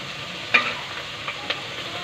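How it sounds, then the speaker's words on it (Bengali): Onion, ginger and garlic paste fry in hot oil in a pot for a chicken roast. A soft, steady sizzle runs throughout, broken by a few light stirring knocks, close and fairly quiet. "ভাজা তেলের মধ্যে হচ্ছে পেঁয়াজ বাটা দিচ্ছে"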